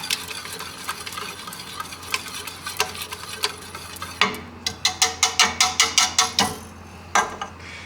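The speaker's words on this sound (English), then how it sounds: "So I'm going to turn this on high now, and then we're going to get this to a full rolling boil." A pot of strawberry jam on a high burner heading toward a rolling boil, soft sizzling with steady stirring scrapes, then a run of regular rhythmic knocks of the spoon against the pot, fairly close and quiet.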